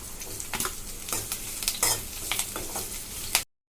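Curry leaves and onion hitting hot oil in a pan with ginger, crackling and sizzling steadily while a spoon stirs with a few sharp scrapes, close and fairly loud before an abrupt cutoff.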